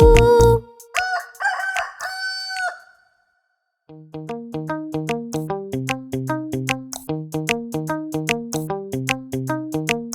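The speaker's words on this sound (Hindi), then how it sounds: "कुकड़ू करे थो कुकड़ू कू, सुबह थियण जो डस टेहू" A rooster crows cock-a-doodle-doo loudly and close up at the start, then a short silence gives way to a rhythmic, tonal melody of repeating notes.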